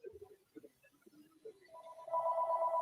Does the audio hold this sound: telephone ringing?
yes